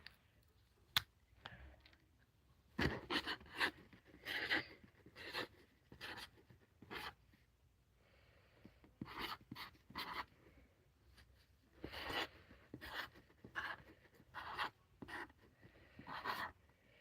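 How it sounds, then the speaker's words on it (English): Quiet pen scratching on paper in irregular bursts of strokes separated by pauses, close and soft, with a sharp click near the start. "I need to write that down"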